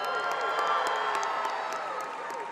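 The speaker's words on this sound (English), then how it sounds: "So every time you hear Southside, that's when we cheer." A graduation crowd cheers and applauds steadily for Southside, with dense clapping and scattered whoops filling the space throughout.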